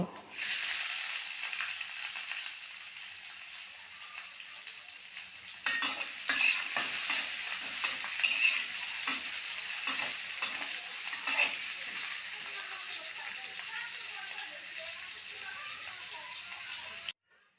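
Onion and garlic sizzle in a pan for pumpkin bhaji, stirred often with a utensil. After a quieter start the frying grows louder and denser, with sharp scraping strokes over a constant hiss.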